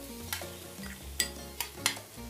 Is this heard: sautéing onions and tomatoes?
yes